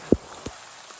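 Rain falls on a hilltop tea estate, a faint wet hiss broken by a couple of distinct nearby drops tapping a surface.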